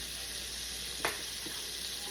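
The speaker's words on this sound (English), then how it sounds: "those chops are frying really nicely" Pork chops fry in a pan with a steady, close sizzle that holds throughout, broken by a single short clack of utensil or pan partway through.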